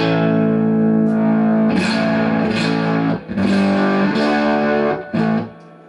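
Electric guitar chords strummed through a Romany TR20 amp, the gain swept so the tone shifts from clean toward a gritty, distorted sound, with brief pauses between strums.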